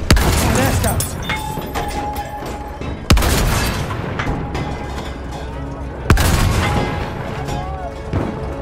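An enemy artillery barrage in Battlefield 1 pounds nearby with deep booms, two sharp loud blasts standing out amid continuous rumbling gunfire and battle noise, with voices shouting in the mix.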